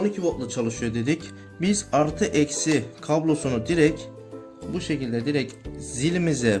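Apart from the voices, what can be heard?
None of the usual background noises is heard.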